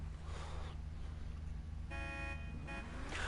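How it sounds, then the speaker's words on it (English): A car horn sounds twice in a racing video game, with a steady tone over a constant engine drone and background rumble. "Honk honk!"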